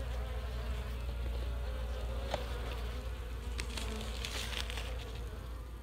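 Worker honeybees hum steadily at a queen-rearing hive frame, a thick, continuous buzz of many bees close by, broken by a few faint ticks and taps, with no talking.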